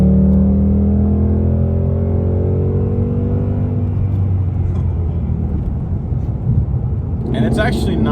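2019 Ford Mustang GT with a 5.0 V8 and six-speed manual pulls hard in third gear, a loud, close engine note rising steadily then easing off, with a brief voice near the end.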